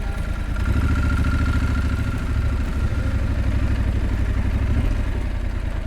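A motorcycle engine runs while riding offroad near Penápolis, a steady mid-pitched drone with rhythmic pulsing and some clatter, close and loud, with no talking over it.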